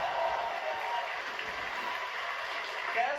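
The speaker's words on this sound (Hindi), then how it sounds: "थोड़ी तालियां हमारे ओपनिंग एक्ट के लिए।" At a stand-up comedy show, the audience applauds the opening act with steady, fairly faint clapping that holds an even level throughout.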